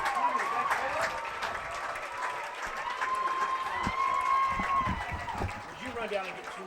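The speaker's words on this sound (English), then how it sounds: "that applause you hear is the Nevada Union varsity Miners storming the field after the JV victory" Crowd applause at a high school football game as the Nevada Union varsity Miners storm the field after a JV win, a sustained distant roar of clapping and cheering under someone speaking over a loudspeaker.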